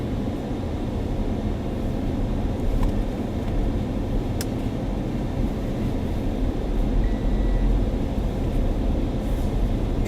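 Interior rumble of a car driving out of a residential community in Dr. Phillips, with steady broadband road and engine noise throughout and a few small clicks.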